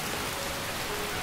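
Steady rain falls in Skyrim, a constant even hiss of drops with no breaks and no voices.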